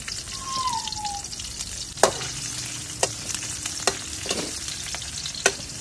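Bitter gourd (ampalaya) frying in a pan makes a steady, close sizzle and crackle, broken by several sharp clicks and taps of stirring and a brief whistling tone near the start.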